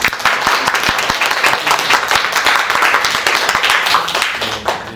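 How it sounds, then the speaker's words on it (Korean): A church audience applauds steadily, many hands clapping densely and loudly throughout without a pause. "감사의 박수로 함께 하겠습니다"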